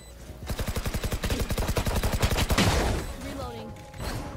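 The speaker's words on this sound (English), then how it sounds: "Swarm grenade out." A swarm grenade goes off in a competitive forklift video game, firing a rapid burst of about twenty sharp, evenly spaced pops. They end in a louder blast with a trailing rumble.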